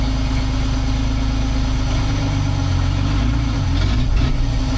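A vintage cabover truck engine idles out of gear, a steady, loud low rumble with even rhythmic throb that shifts slightly near the end.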